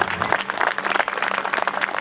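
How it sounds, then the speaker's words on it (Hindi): An audience at a Hindi comic poetry gathering in Yara Township breaks into brisk applause for a poet, a short burst of dense, lively clapping close and loud. "जोरदार तालियों से"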